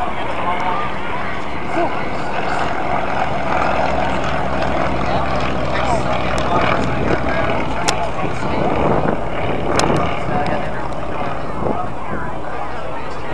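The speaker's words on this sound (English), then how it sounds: "Here comes a yellow airplane." A yellow propeller airplane flies past at an air show, its steady engine drone filling the scene while spectators chat nearby.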